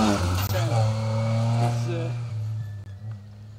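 A Rally 3 rally car roars past on an asphalt stage, its engine loud and close with rising tones that drop away as it recedes, while a voice talks over it.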